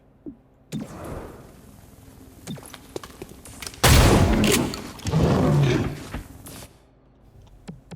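Gunfire in the video game XCOM Chimera Squad: two loud, heavy bursts of weapon fire in the middle, set against quieter game ambience with a few faint clicks before and after.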